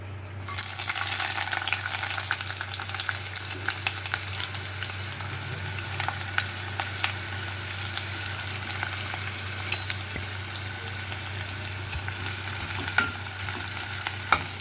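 Chopped onion frying in oil in a kadai gives off a loud, steady hiss from start to finish, with occasional faint stirring clicks close by and no talking.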